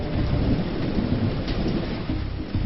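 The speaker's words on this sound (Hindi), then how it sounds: "बारिश ने दिल्ली के हर इलाके को राहत की फुहार से तरबतर कर दिया।" Monsoon rain pours steadily in Delhi, a dense, loud hiss of rain hitting surfaces with thunder rumbling low underneath throughout, and no voices.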